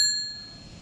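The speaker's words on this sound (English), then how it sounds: "as far as letting people know I'm behind them, going around them, just got a standard bell" A standard bicycle bell mounted on a Velowave Ghost mountain e-bike gives one bright, close ding that rings on and slowly fades, with no talking.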